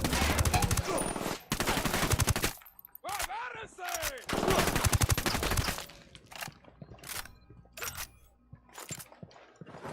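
Rapid automatic gunfire crackles in the shooter game Ghost Recon Wildlands, loud sustained bursts broken by short pauses, then scattered single shots and clatter toward the end.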